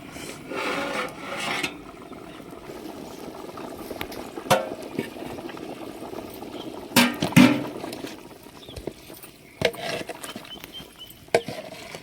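A pot of water for biryani rice bubbling and rattling at a steady simmer, with soft irregular pops and a few sharper clinks rising over the continuous hiss.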